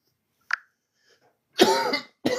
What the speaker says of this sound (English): Excuse me for the coughing here.